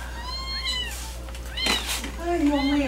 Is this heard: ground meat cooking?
no